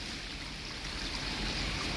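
Water poured steadily from a container into a wok, about 1.5 liters, as the base for a kampung-style beef curry with moringa leaves; a continuous close rushing splash with no talking.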